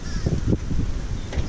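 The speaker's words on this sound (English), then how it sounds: "I think these blackbirds are called macaws." Several harsh caws from crows along a beach bike route, a few spaced calls close by over steady wind or surf noise, with a voice faintly in the background.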